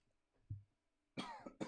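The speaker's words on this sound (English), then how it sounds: "And coughing break." A man coughs indoors: one soft low cough, then a louder harsh burst of two or three coughs close to the microphone, with no talking.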